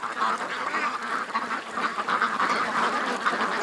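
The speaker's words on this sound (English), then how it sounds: "Come on, ducks, get out of the water." Ducks on water quack steadily and loudly in a continuous overlapping chorus, near and alone with no talk.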